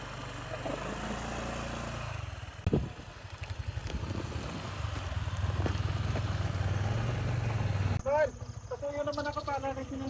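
Motorcycle ridden at night, a steady close engine drone with wind rush, a sharp bump partway, and a shift to idling with voices talking near the end.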